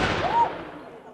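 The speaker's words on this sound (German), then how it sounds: "Bei solchen Jubiläen durften die Ehrensalven nicht fehlen." A single ceremonial cannon salute, fired by the Liechtenstein cannoneer company at an anniversary celebration. It is one sharp, loud boom that trails off into a fading rumble within about a second.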